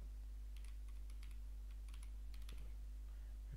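Computer keyboard keys clatter in short, quick bursts while code is typed, close and crisp over a steady low hum, with brief pauses between runs of keystrokes.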